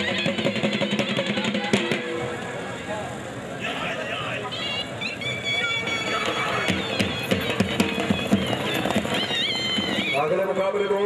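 A horse gallops with rapid hoofbeats at a tent pegging event, mixed with neighs and an announcer's voice over a crowd, the hoof clatter continuous and fairly close.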